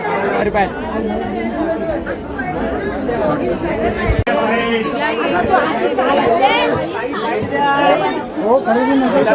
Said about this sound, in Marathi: गर्दी आज हरेश्वरला झाली आहे.